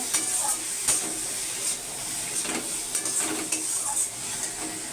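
Chilli powder and turmeric sautéed in hot oil for a tilapia curry, giving a continuous sizzle with a few sharp spoon clinks and stirring scrapes against the pan, close up, with no talking.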